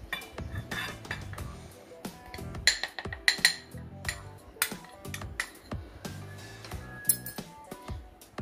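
Pineapple-flavoured custard powder tipped from a small bowl into a metal vessel while making Bombay Karachi halwa, heard as faint, scattered clinks and taps of utensils against metal.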